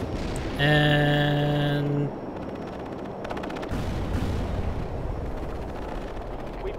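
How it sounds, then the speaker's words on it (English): Artillery strike in the video game World in Conflict: a tonal radio or alert blip, then heavy booming impacts and rumbling explosions roll on beneath the game's ambient noise, with a brief spoken word. "Commence artillery strike."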